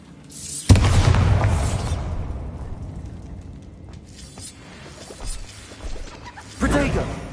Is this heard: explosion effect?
yes